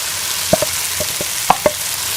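Fried okra is stirred into a pan of sizzling masala, a loud, steady frying hiss with several sharp spatula scrapes and knocks at irregular intervals, close up and with no talk.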